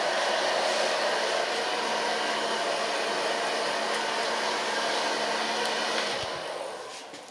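A salon hair dryer blows close and loud in a steady, unbroken roar while blow drying hair, tapering off near the end.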